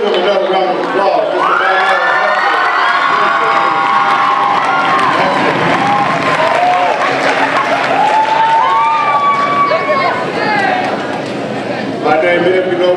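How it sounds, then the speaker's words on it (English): Crowd applause and cheering fill a school Black History Program in a high school gathering, loud and sustained with shouts rising over the clapping throughout. "Let's give them another round of applause."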